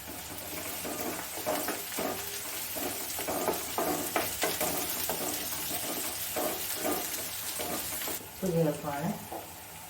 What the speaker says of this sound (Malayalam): ഇഞ്ചി, വെളുത്തുള്ളി, പച്ചമുളക് അതെല്ലാം ഇടുവാണ്. ചെറുതായിട്ട് അരിഞ്ഞ് വെച്ചതാണ്.